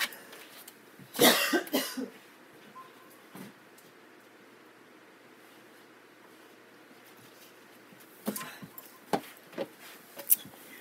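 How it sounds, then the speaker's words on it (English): Two bursts of harsh coughing, one early and a cluster near the end, with quiet room noise between them. "I'm going to start coughing like crazy."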